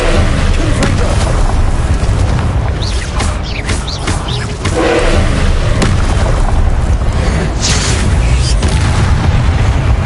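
Spells blast in Hogwarts Legacy on PS5, a fiery Confringo explosion among them, with loud booms and crackling bursts layered over a dense, continuous game soundscape.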